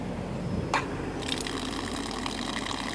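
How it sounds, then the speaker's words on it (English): Water rushing steadily through a Rainpoint WiFi smart irrigation valve, a continuous hissing flow that starts abruptly after a brief click and holds at moderate level with no voices. "And then the water begins to flow"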